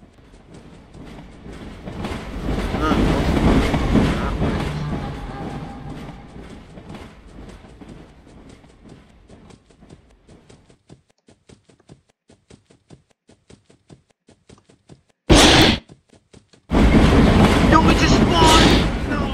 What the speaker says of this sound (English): I need to hit the animatronics with the train